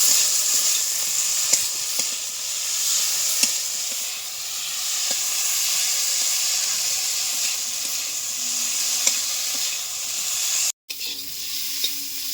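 Potatoes and figs cook down with spices in a pan, giving a continuous, close sizzle broken by light ticks and clicks from stirring and a brief pause near the end. There is no talking.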